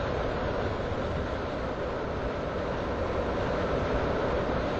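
A Roblox train arriving at a station, with a steady loud rumble of wheels and carriage noise that holds even throughout, with no voices.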